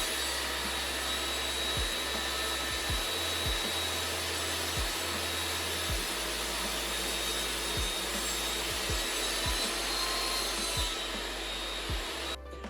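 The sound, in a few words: table saw cutting a chamfer on a wooden box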